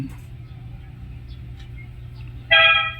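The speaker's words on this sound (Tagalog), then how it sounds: "Ayan o, bumusina ako." Over a low engine rumble, a single short car horn honk blares near the end, close and loud.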